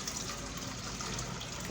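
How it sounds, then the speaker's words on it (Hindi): Water poured off freshly curdled homemade paneer through a strainer, a steady close splashing gush with no voices. "अच्छा तो अब हम जो हमारा ये पनीर तैयार हो गया है इसको छानेंगे ताकि इसका पानी अलग हो जाए"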